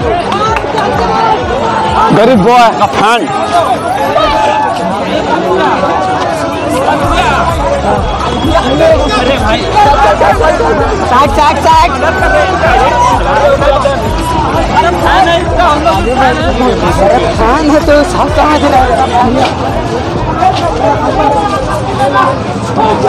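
A dense crowd of people at Oxygen Park in Ranchi fills the air with constant babble and overlapping chatter, and a nearby voice talks over the steady hubbub.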